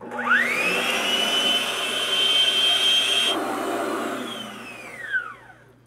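Electric mixer whipping cream to a very firm, nearly butter-like stage for sour cream, a steady high motor whine that ramps up at the start, runs continuously, then winds down at the end.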